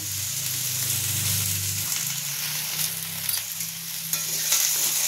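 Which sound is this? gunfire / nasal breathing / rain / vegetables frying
vegetables frying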